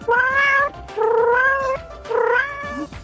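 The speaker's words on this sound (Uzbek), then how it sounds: "Mushiga o'zini bolasida erkalab o'tiribdi." A cat nuzzling its kitten lets out three drawn-out, wavering meows in quick succession, loud and close.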